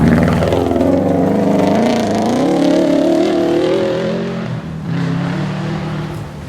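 A Super Production rally car drives through a stage, its engine loud and close, revving and rising through gears with a brief lift before pulling hard again.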